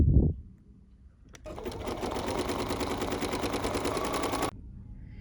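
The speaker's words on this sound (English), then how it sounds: "let's go ahead and stitch the perimeter of our bag" A sewing machine stitching around the edge of a mermaid-print tote bag runs in a steady rapid chatter for about three seconds after a short thump, then stops abruptly.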